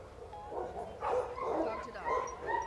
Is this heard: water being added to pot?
no